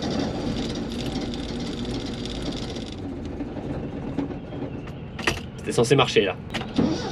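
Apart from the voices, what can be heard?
car engine failing to start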